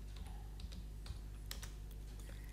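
Numbers being typed on a computer keyboard while drawing in BricsCAD, a quick run of light, close key clicks in irregular bursts over a faint steady hum, with no voices.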